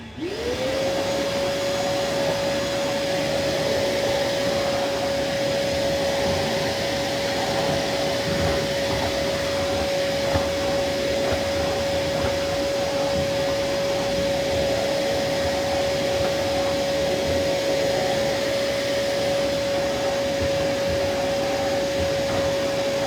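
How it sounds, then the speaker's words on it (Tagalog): A vacuum cleaner runs steadily and loudly for the whole stretch, its motor spinning up at the start into a constant whine over a broad rushing roar, with no voices. "Tapos na ako mag-vacuum."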